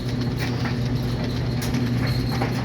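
Horse hooves clip-clop in Minecraft, a steady run of soft, close hoofbeats over a constant low hum, with no talking.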